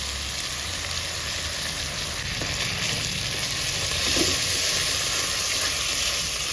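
A ground paste of mustard, cashew and poppy seed sizzles in hot oil with spices for a Bengali sukto, giving a steady, dense, close hiss that runs unbroken throughout.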